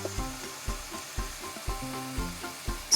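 Chopped cabbage hits a hot pan and sizzles, with rhythmic stirring strokes every half second or so giving a repeating scrape-and-hiss pattern, close and fairly quiet.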